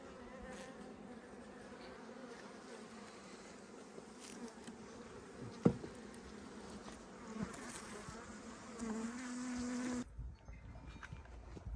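Honey bees buzzing at the hive in an apiary: a dense, continuous drone of many insects close by, with a soft knock midway, before it cuts off abruptly near the end.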